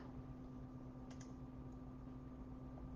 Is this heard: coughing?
no